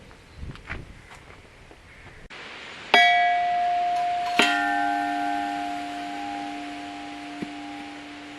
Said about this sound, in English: I've made a series of chimes, quite large diameter ones